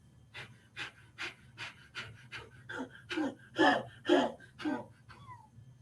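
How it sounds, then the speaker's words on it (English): A person does a breathing exercise, pushing out a rhythmic series of about a dozen forceful, close exhales that grow stronger toward the end, with no speech. "what happens when you exhale more than you inhale?"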